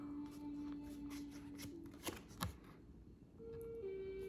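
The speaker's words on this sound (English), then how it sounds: "We're going to cut these only once and see what shows up." A deck of tarot cards is cut once, quiet card riffling and a couple of sharp snapping clicks close by against a faint background hum, with no talking.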